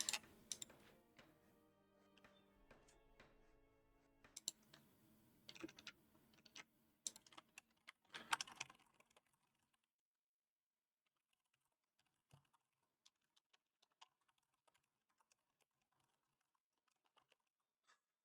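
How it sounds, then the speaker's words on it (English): Quick bursts of keystrokes on a computer keyboard are heard close and fairly quiet, busy for the first nine seconds, then thinning to a few sparse isolated taps. "I was typing on Slack."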